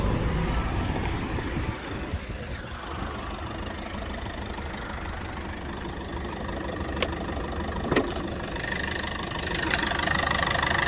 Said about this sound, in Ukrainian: Мягка робота двигуна, не демпфер, нічого не цокотить